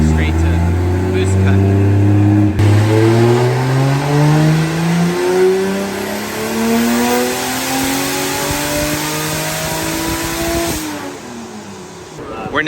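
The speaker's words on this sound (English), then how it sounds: "we've unplugged the wastegate line and we're just going to see if it goes straight to boost" A drift car engine at a Lone Star Drift competition, run with the wastegate line unplugged, revving hard through rising and falling pitch sweeps, loud and close, with a voice talking over parts of it.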